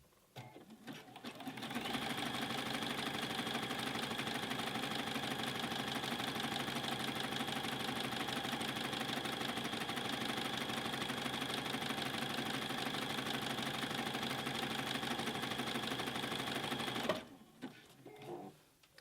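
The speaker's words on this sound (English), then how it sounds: "And then I take a few zigzag stitches there just to hold it in place." Sewing machine running a long continuous zigzag stitch to attach elastic to a fabric bowl cover, a steady fast rattling hum close up that starts and stops abruptly, with faint handling noise before and after.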